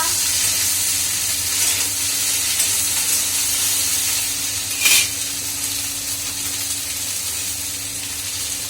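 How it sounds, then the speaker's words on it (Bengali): Okra frying in a pan with five-spice and green chillies, a soft steady hiss of oil with one brief louder spit of steam midway. "এই যে ভিন্ডি ভাজা"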